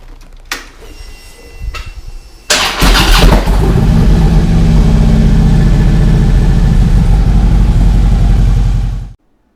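A few clicks and clunks give way to a motorcycle engine catching and running loud and close in a steady, rough drone before cutting off abruptly.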